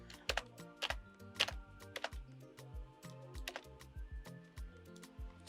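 Rapid irregular typing on a computer keyboard, close and crisp, with bursts of clicky keystrokes and brief pauses, heard alone without speech.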